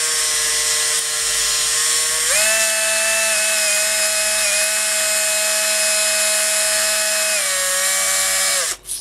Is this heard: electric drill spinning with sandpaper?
yes